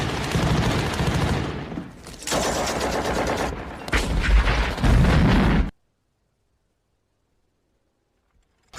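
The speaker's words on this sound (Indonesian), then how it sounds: "memulai baku tembak dengan pasukan NPA" Heavy gunfire and explosions from a Vietnam War film firefight amid city ruins at Hue, loud dense bursts in three blocks that cut off abruptly into silence.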